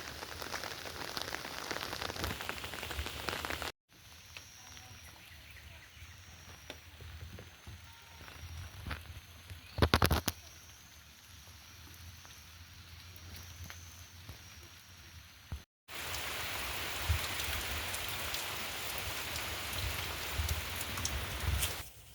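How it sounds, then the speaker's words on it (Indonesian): Steady rain pours down on a village garden where corn and a heavily laden passion fruit vine grow, a dense continuous hiss that drops to a softer patter in the middle before returning at full strength. "Hujan."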